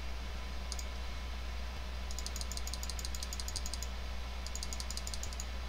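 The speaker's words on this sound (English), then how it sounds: "In fact, I probably don't want my mouse for this, so I can do my fast clicking." Rapid bursts of fast mouse clicking during a Cookie Clicker session, crisp repeated clicks in quick runs separated by short pauses, fairly faint over a steady low background hum with no talking.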